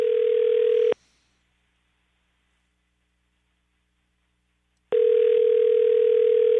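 A telephone dial tone hums as a steady, loud, continuous tone, cuts off abruptly into silence for about four seconds, then resumes just as strongly.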